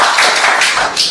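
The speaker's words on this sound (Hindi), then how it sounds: "खुद के लिए एक जोरदार ताली हो सकती है" A crowd of seated trainees claps loudly together, a dense burst of applause filling the hall for just over a second with no talking.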